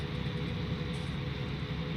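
A steady tractor engine drone from the game Farming Simulator 19 idles continuously at moderate loudness, a low rumble with a faint higher whine, no voices.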